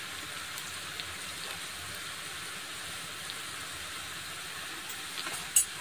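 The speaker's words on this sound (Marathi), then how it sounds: "दोन ते तीन मिनिटं छान असं तेलामध्ये छान तळून घ्यायचे आहेत, छान अशा फ्राय करून घ्यायचे आहेत" Colocasia (taro) leaf bhaji frying in oil give off a steady, soft sizzling hiss that holds evenly throughout, with a small pop near the end.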